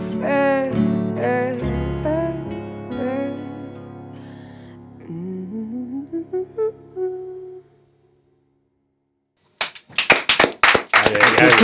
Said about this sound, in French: On peut tous applaudir, Luce.